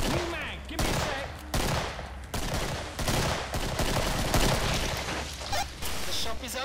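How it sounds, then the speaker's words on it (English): Rapid gunfire in the co-op shooter game Killing Floor, loud bursts of shots in quick succession with short pauses between volleys, layered with players' voices talking over the action. "Should I start shooting the last one?"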